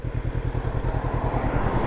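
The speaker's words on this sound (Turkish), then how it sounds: "Ama motorun sesi güzel yani." A Honda CBR500R motorcycle engine idles close by with a rapid, throbbing low rumble that pulses evenly throughout.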